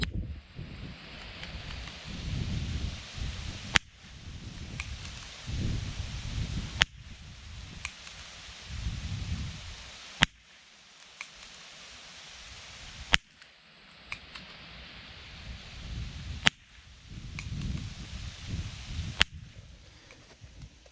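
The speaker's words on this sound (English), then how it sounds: "I took a few shots with the 22" Several sharp, quiet .22 rifle cracks ring out one at a time with pauses between, the bullets striking a concrete block, over gusty wind buffeting the microphone outdoors.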